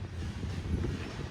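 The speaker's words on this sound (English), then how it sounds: "Train!" A train rolls past with a steady low rumble at moderate distance for a brief moment, and no one speaks.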